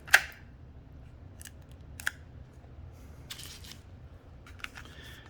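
Adhesive tape peeled in a few short, sharp rips from the packaging of a Seeeduino XIAO microcontroller board, with quiet crinkles between the tears and no voices.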